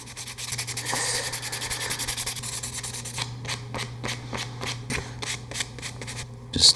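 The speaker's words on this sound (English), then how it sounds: "I just gotta scuff it up where the high sol's gonna hit" Varnished wood on a Kitfox aircraft build is scuffed by hand with abrasive, giving a steady, close rasping rub that turns into quick rhythmic back-and-forth strokes.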